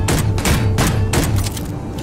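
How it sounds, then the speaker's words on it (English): Gunfire in the video game Space Engineers booms as a rapid series of heavy thuds, several close together at a loud, steady level. "Who's firing a firearm?"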